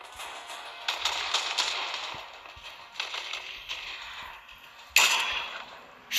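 Fortnite gunfire during mobile phone play, a few sharp bursts of shots scattered over several seconds, with a loud close blast near the end, game ambience between shots and no talk.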